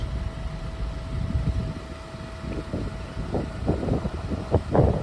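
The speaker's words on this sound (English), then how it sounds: "It is a very blustery day today, like super blustery." Strong, gusty wind rumbles through an outdoor garden, buffeting the microphone in uneven low roars that swell louder toward the end.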